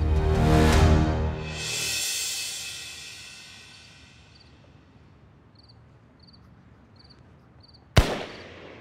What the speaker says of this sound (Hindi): ये तो पक्का फायर है